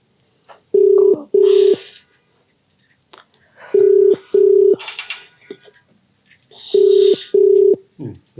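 A telephone ringback tone sounds while a call waits to be answered, three pairs of loud, even double rings spaced about three seconds apart, with faint rustling and movement between them.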